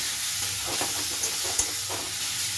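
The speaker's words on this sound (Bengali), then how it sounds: "এবারে একটু আরও ভালো করে এটাকে টমেটোটাকে কষিয়ে নেব" Chopped tomatoes sautéing in a pan as part of a mushroom chicken dish give a steady, soft sizzle and hiss, with a few spoon scrapes and stirs rising over it.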